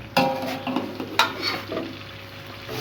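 Lasoora fruit fries in a pan while being mixed, a close crackling sizzle with a couple of sharp utensil scrapes and stirring knocks, loud and brief with no speech.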